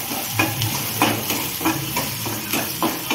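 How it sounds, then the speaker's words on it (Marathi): Ginger-garlic paste frying in a pan, stirred in a steady rhythm of about seven scraping strokes over a loud, dense, close sizzle, with no talking. "चांगलं हलवून घ्यायचं।"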